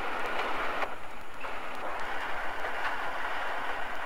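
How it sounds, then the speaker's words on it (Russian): A military train slowly pulls in alongside a station platform, its steady rolling rumble and faint rail clatter continuous and fairly close, with no voices over it. "К перрону медленно подходит военный эшелон."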